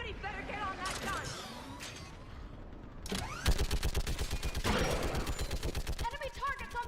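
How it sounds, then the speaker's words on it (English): A mounted gun fires in the video game Mass Effect 3, starting as a loud, rapid, evenly spaced stream of heavy automatic shots midway through. Before it comes a stretch of busy battle effects with voices. "Get on that gun up there and do some damage!"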